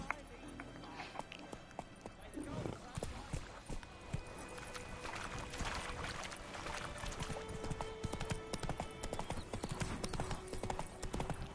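Horse hooves clip-clop steadily in The Witcher video game, a continuous trotting rhythm at moderate distance with game music and ambience, while someone talks over it in Italian.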